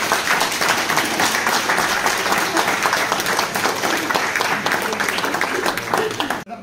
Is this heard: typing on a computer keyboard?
no